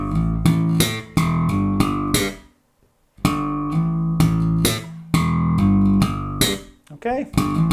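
Slap bass riff with a hammer-on, played twice as two bursts of sharp percussive plucks and popped notes separated by a short silence; loud and close, no talking over it.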